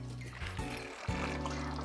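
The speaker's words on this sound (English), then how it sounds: "Look at them bubbles." Bolognese sauce bubbling in a pot on a home stove, a steady low simmering burble with soft liquid pops, close and fairly quiet.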